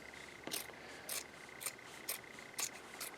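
Scissors snip through fabric close to a seam, six evenly spaced quick cuts at roughly half-second intervals, near and quiet over a faint steady hum, with no talk.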